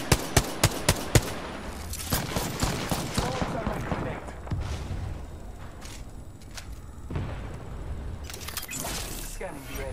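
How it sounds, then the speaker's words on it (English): In Apex Legends, a rapid burst of gunfire opens with several sharp, loud shots in quick succession, followed by scattered, fainter shots and clatter over the next several seconds amid game noise. "Shots fired at me."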